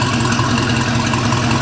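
A 350 MAG MPI engine idles steadily after start-up at around 630 rpm, a loud, even, continuous low rumble with no voices over it.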